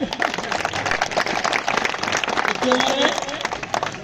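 Audience applause at a speech about Tipu Sultan, clapping spread across the clip and mixed with crowd noise, with voices and chatter audible in the background.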